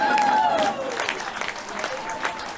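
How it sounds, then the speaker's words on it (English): Brief clapping and applause in Hawaii right after a coconut-husking demonstration, a short burst of crowd clapping with a voice talking over it. "Clap."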